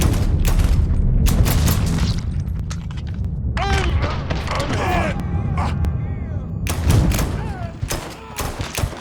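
Mafia 3 gameplay with repeated sharp gunshots and heavy thuds over a rumbling game backdrop, loud and close, with a voice and creaking, mechanical sounds mixed in.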